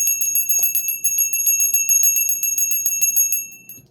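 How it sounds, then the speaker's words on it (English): A small bell rings in rapid repeated strikes, bright and close, a quick continuous run of clear metallic tones that slows and fades at the end, over a faint low background. "Some of you like my bell, as I read in the comments, so I'll do the bell too."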